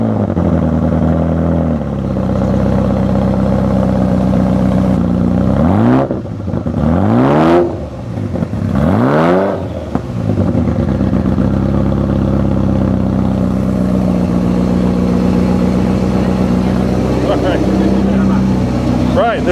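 Ferrari F40 with a wide-open LM exhaust revving hard, loud and close, with steady idle rumble broken by several sharp rising and falling revs in the middle, then settling back to a throbbing idle.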